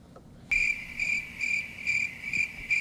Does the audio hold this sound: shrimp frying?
no